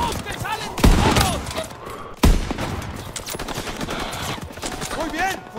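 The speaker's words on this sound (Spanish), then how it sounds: "¡Están disparando!" Bursts of gunfire in the World War II shooter Call of Duty WW2 crack out in rapid volleys with two heavy booming impacts. Shouting voices run over the battle throughout.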